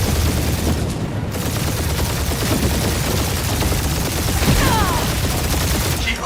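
Continuous gunfire barrage in the Guardians of the Galaxy video game, dense rapid shots and booms pounding loudly throughout with no break.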